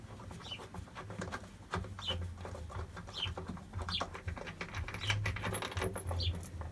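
Metal bolts and washers from a Taylor acoustic guitar neck clink and tap lightly as they are handled, a series of small scattered metallic clicks over a low steady hum.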